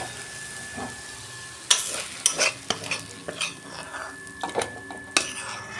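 Cooked papaya curry is stirred and scraped out of a pan, with sharp spoon-on-metal knocks and scrapes arriving in irregular bursts over a soft frying hiss, close and fairly loud.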